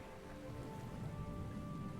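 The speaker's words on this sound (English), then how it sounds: "you feel raindrops against your cheeks as it begins to rain" Steady rain falls during a tabletop role-play session, a dense continuous patter of drops with a low rumbling wash underneath, even and unbroken throughout with no voices.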